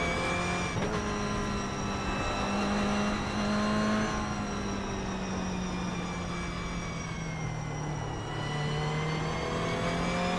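A GR Cup race car at Tsukuba Circuit drones steadily at high revs, with a brief break near the start and sustained engine whine that sags slightly in pitch, heard from inside or close by.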